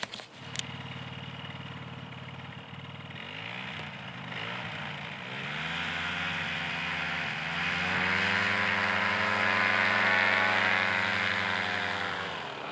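A powered paraglider engine and propeller drone steadily, its pitch rising as the throttle opens into a loud, sustained buzzing roar that holds near and constant.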